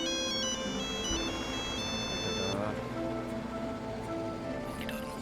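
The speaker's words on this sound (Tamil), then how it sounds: "கல்யாணத்தை வச்சு நமக்கு ஃபோன் அடிச்சுட்டு இருக்காங்க பாருங்க." A phone ringtone plays steadily through the whole stretch, its stepped electronic melody fairly loud and close, with no talking over it.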